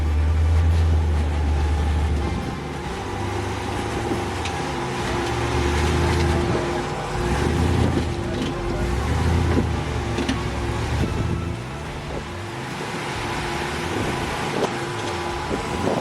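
A 4x4 rock crawler on Billings Canyon's Cutoff Trail grinds up rocks off-road, its engine a steady low rumble that swells and eases with throttle, mixed with wind buffeting the microphone throughout.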